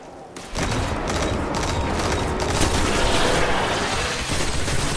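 Heavy guns firing in Destiny, a sustained, loud barrage of overlapping blasts that rolls on after a brief quiet start, with no pause.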